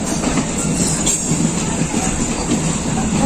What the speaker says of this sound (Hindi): हमारी ट्रेन मुड़ती है।